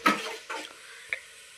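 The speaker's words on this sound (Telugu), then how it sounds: "ఉల్లిగడ్డ పేస్ట్ వేసి నేనైతే ఇట్లనైతే కలుపుకుంటున్నాను" Onion paste being stirred in a cooking pan for fish curry, a few soft scraping strokes and light clinks of a utensil against the pan, spaced out in quiet.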